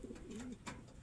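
Soft, low pigeon cooing rolls through a short warbling phrase, with a second brief coo near the end, close by and fairly quiet.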